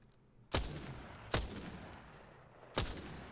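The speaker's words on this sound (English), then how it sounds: "the firing mode is a single shot since it's a sniper. And it shoots 3 bullets at once" A sniper rifle in Apex Legends that fires three bullets per shot: three separate loud cracks, spaced roughly a second apart, each trailing off into a short echoing tail.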